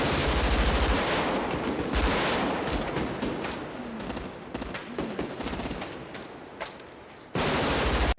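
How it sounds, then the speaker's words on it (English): Sustained shootout from a neo-noir film with Vietnam-era M16 assault rifles, dense overlapping automatic gunfire roaring continuously at close range for several seconds, with no talk over it. "They're using big ass old Vietnam era M16 assault rifles, not little ones, big ones."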